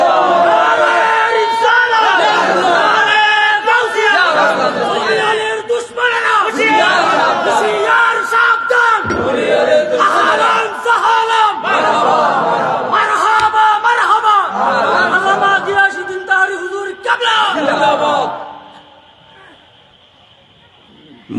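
A large crowd at an Islamic waz religious gathering chants a slogan in loud, rhythmic unison, with repeated surging shouts over about eighteen seconds before the voices drop away into near silence.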